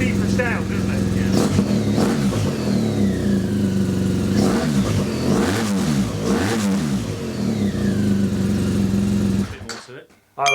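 Deep, loud revving from a nearby BMW R1250 GS motorcycle fitted with an Akrapovic titanium exhaust, baffles removed: several sharp throttle blips rise and fall over a steady idle, then cut off abruptly near the end, with voices faint underneath.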